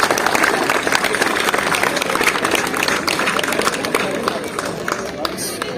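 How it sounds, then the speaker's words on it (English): A crowd at a Relay for Life charity event gives a loud, sustained round of applause for the 24-hour relay teams, with dense clapping and crowd noise throughout. "So I want to give a huge round of applause to the teams who have done an amazing job over 24 hours"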